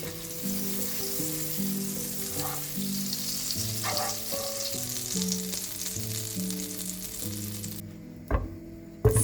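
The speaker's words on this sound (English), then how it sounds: "Sauté the potatoes." Potatoes sauté in a pan of butter and vegetable oil with a steady, soft sizzle and occasional stirring clinks, moderately quiet and continuous under faint background music.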